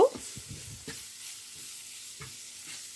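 Spice powder stirred and fried in a pan over low heat for a fish and egg roll filling, with soft scraping strokes and a light sizzle at intervals, close up, no talking.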